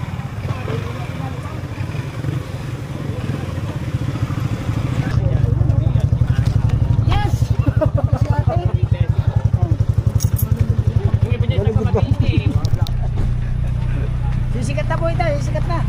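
A motorcycle engine drones steadily with a low, even rumble on the trail to Mt. Gulugod Baboy, growing louder about a third of the way in, while people talk over it throughout.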